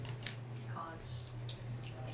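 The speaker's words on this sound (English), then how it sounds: "He shuffles the cards once more" Playing cards are shuffled and dealt one by one at a tabletop game session, producing short crisp snaps and flicks in quick succession under a steady background hum.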